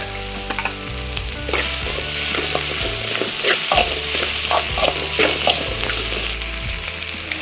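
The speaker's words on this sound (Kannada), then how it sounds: "ಇವಾಗ ಅವರೆಕಾಳು ಹಾಕ್ತೀನಿ" Field beans (avarekalu) stir-fried with fried onions in a pan for upma, a steady loud sizzle with repeated scraping stirs of a spatula throughout, no talking.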